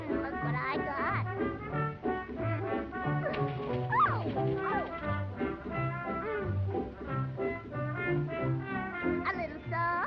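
A small pet dog named Pudgy gives a run of quick, high yips and barks with a few whimpering tones, fairly close, with some speech-like sounds mixed in.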